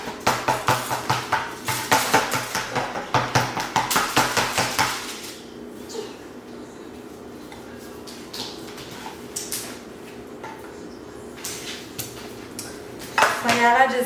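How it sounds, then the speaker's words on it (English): A knife on a plate cuts up a steak and pokes holes in it, making a quick series of sharp clinks and taps at close range, followed by quieter scraping and handling noise. "I just cut my steak up, put some little holes in it"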